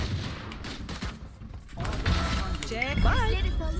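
Gunfire from the tactical shooter Valorant with a Kuronami Vandal rifle: a quick burst of shots partway through, mixed with game effects, while someone talks excitedly over the action.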